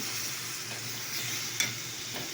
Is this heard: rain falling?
no